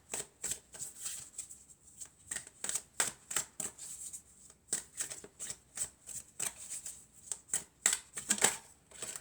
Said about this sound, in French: on va voir avec mes cartes ce que ça nous dit